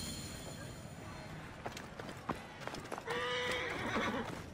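Horses in an ancient Egyptian setting from Assassin's Creed Origins: a quiet stretch of hoof clops and rustling leads into a loud, drawn-out neigh near the end, with a faint voice in the background.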